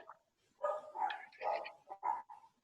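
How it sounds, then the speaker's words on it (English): A small dog, a cockapoo or cavapoo, barks several times in short separate bursts, fairly near and clear, with a brief whimpering quality between barks and no talk over it. "Someone's got a dog."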